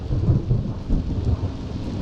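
Low rolling rumble of thunder with steady rain underneath, heard from a boat at anchor off Fornells, loud and continuous throughout the short stretch.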